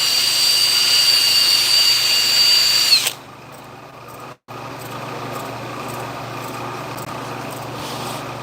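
Drill-driven hone working engine cylinders, a loud steady high-pitched whine that spins down and cuts out after about three seconds, followed by a lower hum and a brief silent gap.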